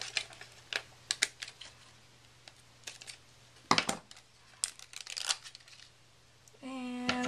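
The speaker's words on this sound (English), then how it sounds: "So I'm going to cut this Prima Bling apart a little bit here." Scissors snip apart Prima Bling embellishment swirls at a craft table for birdhouse ornaments, making a run of light, crisp, irregular clicks and snips, close and fairly quiet, with a brief voiced sound near the end.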